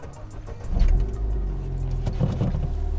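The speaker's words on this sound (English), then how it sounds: "let's start the car and let's go for a drive." A stage 1 tuned Ford Fiesta ST engine cranks and catches, swelling to a loud throaty rumble before settling into a steady, close idle.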